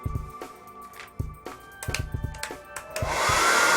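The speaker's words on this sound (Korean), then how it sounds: "드라이기를" Clicks and light handling noises come first, then a hair dryer switches on and blows in a steady, loud rushing whoosh over newspaper laid on a T-shirt.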